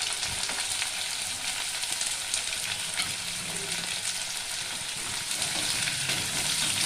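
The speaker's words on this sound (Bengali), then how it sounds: "এবার তেলের মধ্যে এটাকে আমি ভালোভাবে মিশিয়ে নিলাম।" Garlic cloves and potato pieces fry and get stirred in hot oil for a chicken kosha, giving a continuous bright sizzle with soft stirring scrapes underneath.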